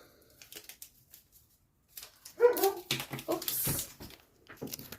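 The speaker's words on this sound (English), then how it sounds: "That was my dog in the background" A dog barks and whimpers in short yips in the background of a quiet craft-table session, with a louder burst in the middle of the clip.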